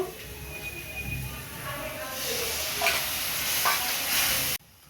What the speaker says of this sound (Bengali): মশলা কষিয়ে নিয়েছি, এই দেখুন তেল ছেড়ে দিয়েছি সুন্দর।